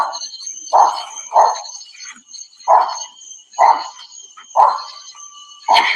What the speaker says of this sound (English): Sorry, the dog's loud.